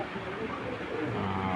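A pigeon coos softly in a loft of fancy pigeons, one brief, low, throaty call close by over faint background noise.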